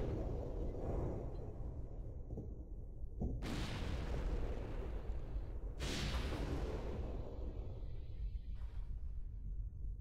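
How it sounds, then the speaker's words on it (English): A train hitting bombs on the rails in the video game Arc the Lad II: two heavy explosive blasts burst out over a steady low rumble, a few seconds apart, each with a sharp crackling onset that slowly fades. "That was a pretty pathetic explosion."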